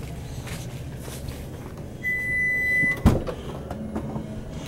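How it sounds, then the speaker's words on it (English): Electric power rear liftgate of a 2012 Lexus RX450h hybrid operating: a steady motor whine for about a second, ending in a sharp thud as the door latches, with light shuffling around it. "Electric power door."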